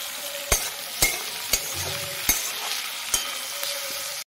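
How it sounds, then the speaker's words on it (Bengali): Onions sizzle steadily in hot oil in a home kitchen, broken by sharp scraping stir strokes roughly every half second, close and fairly loud, with no speech. "তো এদিকে পেঁয়াজটা ভাজা চলুক"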